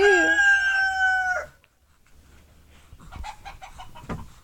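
A rooster lets out a loud, drawn-out crow up close, followed after a brief pause by a few short, scratchy clucks and squawks from the chicken.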